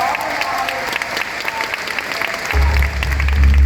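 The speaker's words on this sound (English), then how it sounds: "Give everyone a round of applause for our top leaders" A crowd at an on-stage event in Charleston breaks into applause, dense clapping that swells louder toward the end, with a low rumble underneath.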